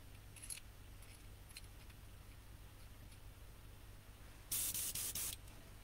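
An airbrush blows off overspray while painting an RC car body shell: a faint hiss, a couple of brief puffs, then a louder burst of spray lasting about a second near the end.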